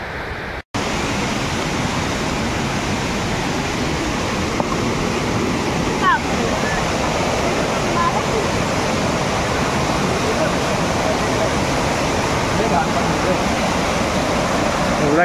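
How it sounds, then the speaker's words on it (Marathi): Rushing water of the Shitkada waterfall near Nashik, a loud, steady broadband roar that fills the scene without pause, continuous from start to finish apart from a brief dropout right at the beginning. "तर पाण्याचा प्रवाहाचा आवाज येतोय आणि पाण्याचा प्रवाह दिसायला लागलाय आता आपल्याला"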